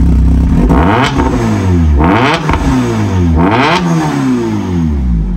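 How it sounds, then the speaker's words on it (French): A loud Porsche 991 GT3 Cup race car engine revs repeatedly, climbing and dropping in pitch in sharp bursts, close and mechanical with gear-change clatter. "t'entends que c'est un petit moteur On dirait une Honda."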